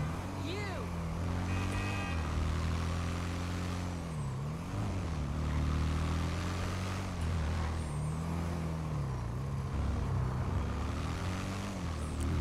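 Motorbike riding in GTA 5 gives a steady, droning engine hum with wavering pitch that rises and dips throughout, sustained and fairly loud, with a game ambience behind it.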